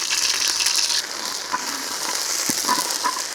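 Hot oil hissing and crackling as cinnamon, broken dried red chillies, cumin and crushed ginger garlic fry in a pan, a bright steady sizzle with occasional pops and a stir or two.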